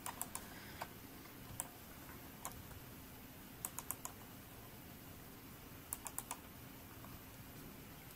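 Computer keyboard and mouse clicks at a desk while setting type in font design software, heard as faint, sparse clicks, sometimes single and sometimes in quick clusters of three or four, over a quiet room hum.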